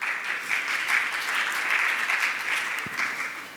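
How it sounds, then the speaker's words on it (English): An audience at a talk on service design and gamification gives a big round of applause to welcome a speaker onto the stage, a dense, steady wash of clapping with no voices over it. "Let's please welcome her on stage with a huge round of applause."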